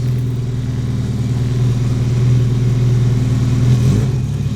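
A turbocharged Honda Civic engine runs just after starting while the throttle is held, producing a loud, close, steady droning hum that dips briefly near the end.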